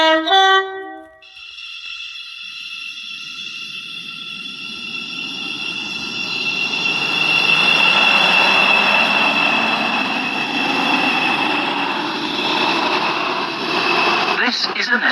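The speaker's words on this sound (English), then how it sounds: "This train is formed of 6 coaches." In the railway game SCR, a train pulls into Stepford High Street station: a short announcement chime, then a long rising electric whine and rolling rumble that swells to a loud peak before easing, steady and close.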